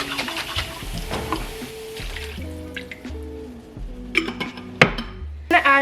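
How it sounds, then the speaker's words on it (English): Water poured into an emptied tomato sauce can in a home kitchen, a steady trickling drip with light metallic clinks and a few sharper clatters near the end, close and moderately loud. "I'm gonna add some water in the can."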